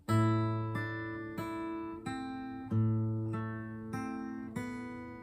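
Classical guitar plays the Crazy C section of a tune, with clear plucked notes and chords sounding alone at a steady, moderate pace over several seconds, each strike ringing out and decaying before the next.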